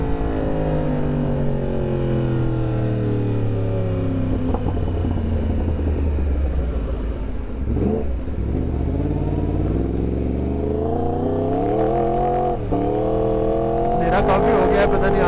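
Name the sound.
Yamaha R1 superbike crossplane engine revving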